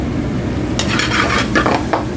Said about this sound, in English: Just going to kind of saute that over medium-high heat until the onions kind of start to get translucent.